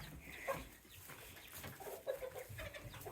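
Chickens cluck softly nearby in short, scattered bursts over a faint, noisy background.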